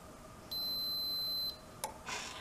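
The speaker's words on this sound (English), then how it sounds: "So this is set up for a leak. Let's see if that turns it off." A Bulldog water shut-off valve on a 1/2-inch solder valve sounds its leak alarm: a steady, loud electronic beep held for about a second, then a brief chirp and a burst of mechanical hiss as the valve reacts.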